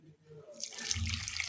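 Water being poured into a sugar mixture for pitha batter, a soft trickling splash that starts after a brief quiet moment of faint room sound and continues gently to the end.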